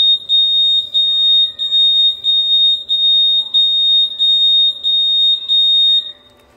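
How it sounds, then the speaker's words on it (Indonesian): A loud, high-pitched Honda Scoopy motorcycle alarm buzzer beeps in a fast repeating rhythm after the bike is bumped, chirping in regular bursts before cutting off at the end. "ada bunyi buzzer dan sen akan berkedip"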